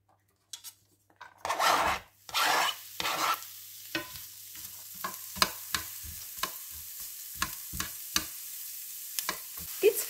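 Chopped onions going into hot oil in a frying pan: a burst of loud sizzling as they land, then quieter frying punctuated by regular scraping taps of a spatula stirring them.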